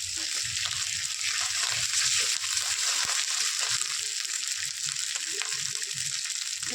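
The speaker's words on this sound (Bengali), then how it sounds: "দিয়ে ভালো করে মশলার সঙ্গে কষিয়ে নিই।" Cumin paste and spices sauté in a pan for a Bengali egg curry, a continuous close sizzle broken by soft, irregular scraping and stirring sounds.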